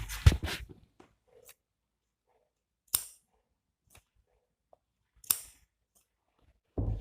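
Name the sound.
scissors cutting fabric for a blouse collar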